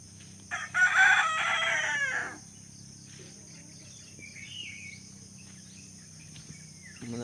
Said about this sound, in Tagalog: Muna ako nagpakaon sa akong mga manok diri.